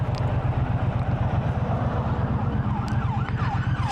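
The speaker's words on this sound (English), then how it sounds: "just let this ambulance go past." An ambulance siren wails in repeated rising and falling sweeps as it passes, over the steady low rumble of a Triumph Bobber motorcycle engine on the road.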